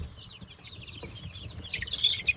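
Young Delaware, White Rock and other chicks about two weeks old chirp continuously in a barn, a busy overlapping chorus of small high peeps, moderately loud and close.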